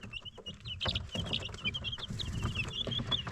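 Young broiler chicks about a week old, kept in a brooder, cheep in a busy, overlapping chorus of high, thin peeps, close and continuous, with soft scuffling underneath and no talk.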